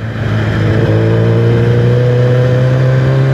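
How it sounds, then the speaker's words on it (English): A loud motorcycle engine revs up and holds a rising, throaty drone close by, its exhaust note climbing steadily with no talking. "Listen to that exhaust."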